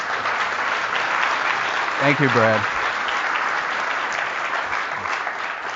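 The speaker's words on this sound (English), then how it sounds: "can I have a round of applause?" Audience at a keynote talk applauding, a dense steady wash of clapping from a crowd throughout, with someone briefly speaking over it partway through.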